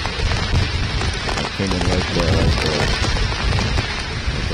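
Heavy thunderstorm rain pounds steadily nearby on Long Island while low thunder rumbles underneath, and someone briefly speaks over the downpour.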